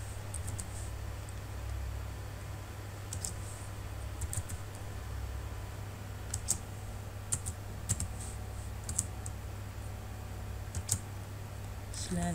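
Keys clatter on a computer keyboard as a command is typed into the Windows command prompt, giving a run of soft irregular clicks and taps over a steady low hum, moderately close with no talk.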